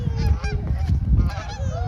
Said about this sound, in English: the geese say hello once again.